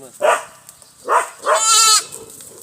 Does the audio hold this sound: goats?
yes